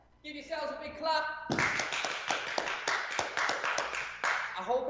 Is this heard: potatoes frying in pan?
no